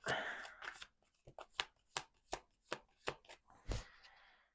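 Tarot cards are shuffled in a quiet indoor setting, making a series of crisp, evenly spaced riffling snaps close to the listener, about ten in a row.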